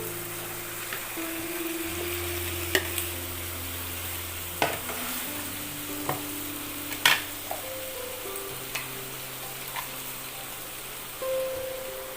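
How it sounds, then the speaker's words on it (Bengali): Goat meat sizzles in a pan with spices, a steady frying hiss broken by scattered stirring clicks and scrapes, with faint tonal hums in the background. "খাসির মাংসটাকে অ্যাড করব।"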